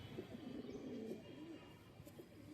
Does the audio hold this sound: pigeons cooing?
yes